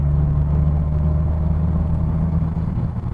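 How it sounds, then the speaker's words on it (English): Loud aftermarket exhaust on a Peugeot car, a deep throbbing burble at steady idle, close and dominant with a rough low-pitched drone and no talking. "There is something really good fun about having a big yobbish exhaust on a Peugeot."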